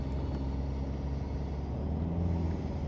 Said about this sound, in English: you will be able to hear the turbo spool at least